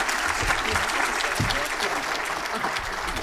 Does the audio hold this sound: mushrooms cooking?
no